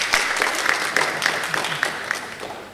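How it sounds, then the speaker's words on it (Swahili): A small crowd claps at a launch ceremony for the Sky International TV station in Dodoma while cake is handed out. The claps come in quick, steady, rhythmic bursts that are close and lively. "Makofi tafadhali"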